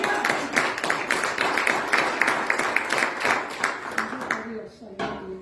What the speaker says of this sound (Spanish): ¿Por qué no le das un aplauso a Dios?